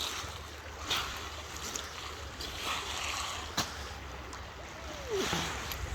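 Flowing creek water runs steadily while someone walks through a shallow creek, with occasional splashing steps and a faint passing sound.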